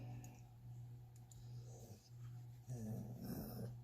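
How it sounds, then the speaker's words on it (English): A dog growls low and steadily close by, breaking into soft whimpers and breathy sounds toward the end, with no one speaking. "You're such a silly dog."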